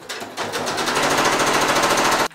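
A sewing machine runs fast while top stitching a fabric drawstring pouch, a loud, close, rapid even rattle of the needle lasting about two seconds before stopping abruptly.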